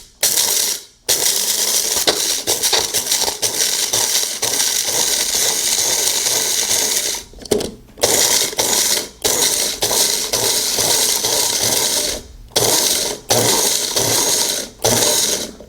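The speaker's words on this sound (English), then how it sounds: "you can also grind up your coffee beans for nice fresh coffee" A Magic Bullet blender grinds coffee beans in repeated loud pulses, each burst a harsh rattling whir from the blade and hard beans, separated by brief silent gaps, close and without speech.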